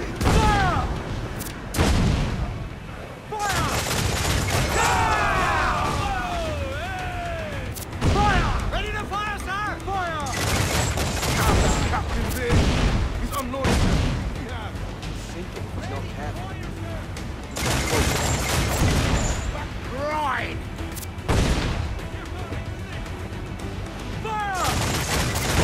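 Ship cannons fire in a naval battle in the video game Assassin's Creed IV Black Flag, with repeated loud booming volleys over sea ambience and shouted orders from the crew.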